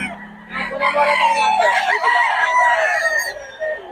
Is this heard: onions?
no